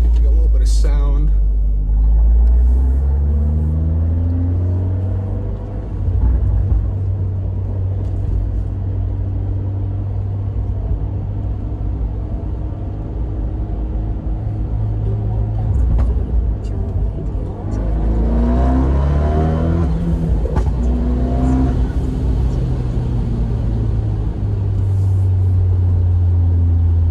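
A Fiat 124 Spider engine with a Eurocompulsion Phase 2 tune rumbles and revs up on a back road, windows open, rising in pitch as it accelerates, loud and close with road noise, and a voice speaks briefly.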